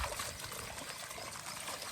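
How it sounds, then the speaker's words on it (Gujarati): Heavy rain pours over flooded farm fields and drums on umbrellas, a dense, unbroken hiss of falling water close by. "2 છતરીઓ લઈને ઊભી છે, એટલો વરસાદ એના પર આવી પડે છે"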